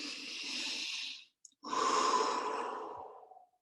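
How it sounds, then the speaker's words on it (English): Two long, close breaths are taken in and let out softly with a short pause between them, in a calm guided session. The second breath is fuller and louder than the first. "Let's indeed just take in a breath."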